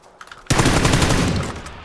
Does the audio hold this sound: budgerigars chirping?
no